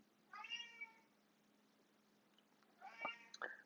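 A house cat gives two meows a couple of seconds apart, the first drawn out and the second shorter with a rising chirp, close but fairly quiet over a faint steady hum.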